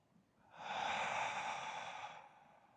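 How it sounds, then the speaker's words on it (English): A single slow, deep breath during a hatha yoga practice, a soft, close, airy rush of about two seconds that swells and fades in an otherwise quiet room. "Inhale deeply through your nostrils. Exhale out of your mouth."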